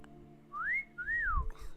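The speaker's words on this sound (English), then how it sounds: "I tried to do a sexy whistle" A person whistles two rising-and-falling swoops close by, a short flirtatious wolf-whistle, followed by a soft thump of handling noise.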